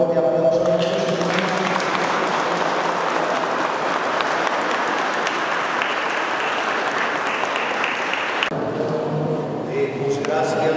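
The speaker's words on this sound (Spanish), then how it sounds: "Les damos un fuerte aplauso a nuestro Señor." Sustained applause fills a church after a wedding and baptism service in San Francisco Teopoulco, a dense, even clapping that lasts about eight seconds before tapering off to a voice.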